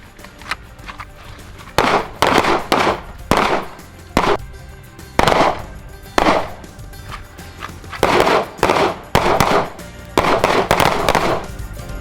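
Gunfire on an outdoor shooting range, sharp loud shots cracking out in irregular bursts and overlapping volleys from several shooters, fairly close, with short quiet gaps between.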